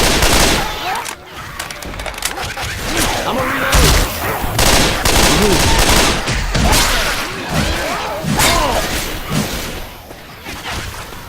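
Explosive ammunition fires in rapid sustained bursts during Left 4 Dead 2 gameplay, a loud dense rattle of shots with blasts throughout, while someone talks over the action.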